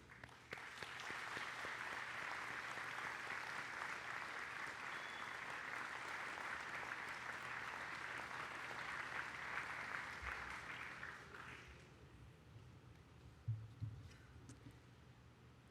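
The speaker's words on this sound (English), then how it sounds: "join me in applauding all those who have helped shape us into the successful graduates we are today" Graduates at a Faculty of Engineering and Information Sciences graduation ceremony applaud their families in a steady, sustained wash of clapping from a large seated crowd, holding for about eleven seconds before fading into quieter hall ambience.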